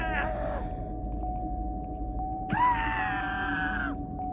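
A monster in the horror video game Forsake lets out a loud, drawn-out wailing scream about halfway through, rising and then sustaining over a constant low rumble and a steady mid-pitched tone, after a brief earlier cry at the start.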